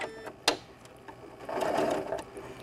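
A Janome Continental M7 sewing machine stitching curved quilt piecing, its needle running in steady whirring bursts with gear and clicking mechanism sounds close by, starting and stopping without talk.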